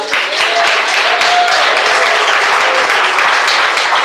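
Loud, close applause from a church congregation during a worship service, a dense continuous roar of many hands clapping with faint singing or voices woven through it.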